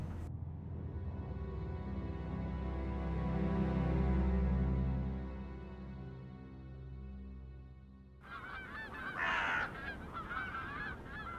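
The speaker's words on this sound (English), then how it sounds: "I don't understand the seagull noise when in this area." Seagulls crying in a game environment near a beach and water, a long sustained honking wail followed by a burst of harsher overlapping squawks, moderately loud over a low ambient drone.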